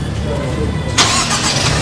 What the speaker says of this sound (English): Switch on the car.